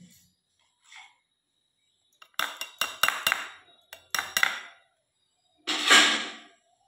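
Metal plates clinking as they are set down to soak in water after offerings are cleared, a few separate rattling clusters of sharp metallic clatter with quiet gaps between.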